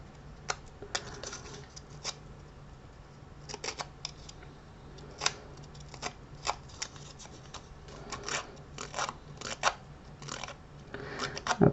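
A scissor blade scrapes along the edges of a thick paper tag card to distress it in a vintage style. Short, dry rasping strokes repeat irregularly and close up, with no talking.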